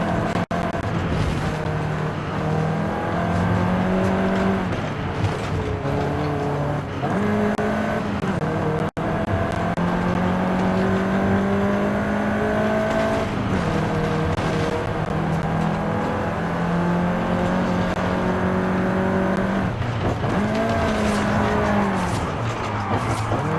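Engine of a car driven in the racing game Forza Horizon 5, a loud continuous drone rising and falling in pitch through repeated gear shifts, close and alone throughout.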